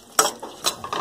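A lid goes onto a cooking pot of vegetable kurma with a few quick, close metallic clinks and clatters, sharp and brief.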